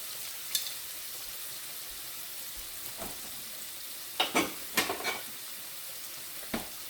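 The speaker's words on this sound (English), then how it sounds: "All right, let that saute a little bit." Sausage and broccoli rabe saute in a pan with a faint, steady sizzle, broken by a few brief scrapes and clinks of a utensil near the end.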